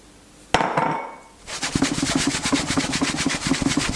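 Camembert pieces shaken in a container of breadcrumbs, a sharp knock then a fast, steady rattling and rubbing shake that stays close and fairly loud.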